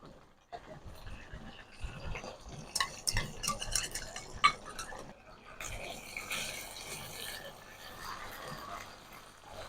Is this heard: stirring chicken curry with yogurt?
yes